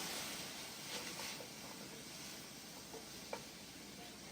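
Mixed vegetables of corn, carrots and green peas sizzle quietly in a pan while a spoon stirs them, giving a few faint scrapes and one sharp tap against the metal.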